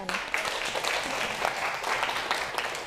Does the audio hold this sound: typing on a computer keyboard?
no